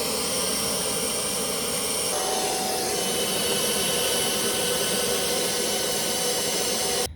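A Vogma V Monster cordless air duster blows steadily, a loud, continuous high-pitched jet-like whoosh with a slight shift in pitch partway through, running without pause and cutting off abruptly at the end.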